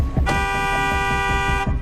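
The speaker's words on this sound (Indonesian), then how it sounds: "Rachel pun membunyikan klakson mobilnya secara berkali-kali" A car horn in a traffic jam blares one long, loud, sustained honk lasting over a second, close by, with low traffic rumble underneath.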